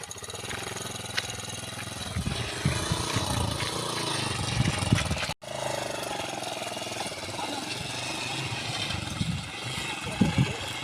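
A motorcycle engine runs at a steady rough idle close by, a continuous chugging drone with a brief cut near the middle, while people talk over it intermittently.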